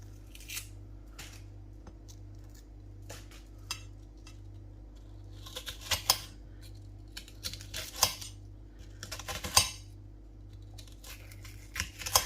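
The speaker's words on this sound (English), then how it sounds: "we're just going to cut the onions lengthways" A knife slices onions lengthways on a board, giving a run of crisp, irregular cuts and taps that grow denser and louder toward the middle, over a low steady hum.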